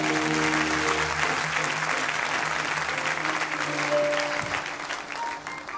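Church congregation applauds and cheers during a morning worship service, a dense, steady roar of many hands clapping throughout, with faint voices and tones mixed in, easing slightly near the end.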